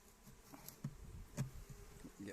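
Faint, low buzzing of honey bees drifting around close by at an open hive, with soft rustling and a few brief louder hums.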